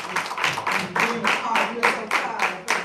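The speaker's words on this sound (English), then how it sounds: "So let's give her a round of applause." A crowd claps in steady unison, sharp bursts repeating about three times a second, fairly loud and close.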